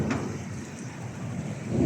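Heavy rain falls in Mecca, Saudi Arabia, as a steady, dense wash of noise from start to end, close and fairly loud, with no talk over it.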